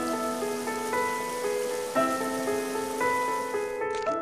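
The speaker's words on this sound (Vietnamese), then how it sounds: "sau một đêm mưa gió." Rain and wind in an animated Vietnamese fairy-tale cartoon: a steady hiss of rainfall runs under sustained musical tones throughout, with no voices.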